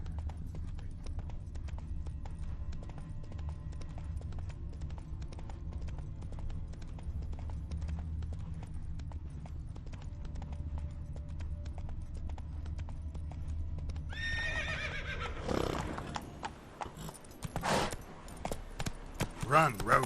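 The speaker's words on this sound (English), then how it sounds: "Run, Roach" A horse in The Witcher 3 video game gallops with a continuous, rapid clip-clop of hooves, before a sharper burst of other game sounds near the end.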